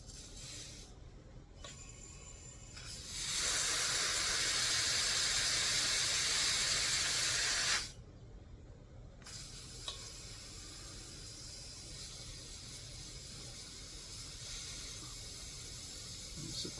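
Propane gas hisses loudly and steadily from the opened valve of a 1 lb bottle being refilled with an adapter, a sharp broadband rush lasting several seconds before it cuts off, with quieter hissing around it.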